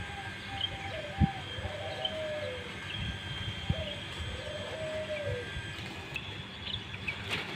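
Doves coo in soft, repeated calls against a quiet outdoor background at a dove farm, with a few sharp clicks and light chirps scattered throughout.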